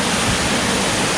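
Valsampetta waterfall pours with an even, dense roar, a brief, unbroken wash of falling water close by with no voices.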